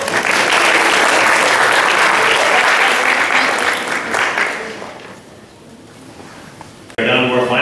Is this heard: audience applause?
yes